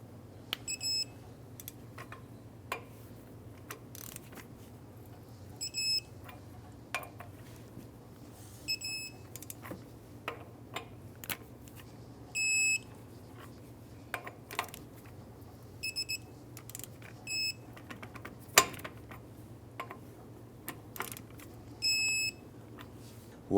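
Digital torque wrench tightening lug nuts to 85 foot-pounds on a 2000-2006 Toyota Tundra, giving short bursts of high electronic beeps repeated every few seconds, with clicks and tool handling noises over a low steady hum.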